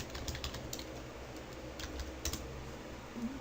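Quiet, close computer keyboard typing, a few scattered keystrokes and short bursts of clicks over a soft background hiss.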